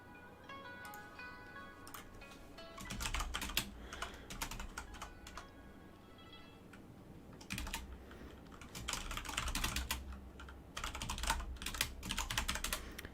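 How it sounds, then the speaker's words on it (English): A computer keyboard is typed on close by, with bursts of rapid clicking keystrokes separated by short quiet pauses. "Typing."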